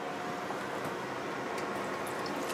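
Water runs steadily from a contactless washbasin tap, a continuous broadband hiss and splash that stays even and fairly close for the whole stretch, with no voices over it.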